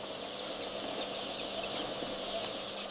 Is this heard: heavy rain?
no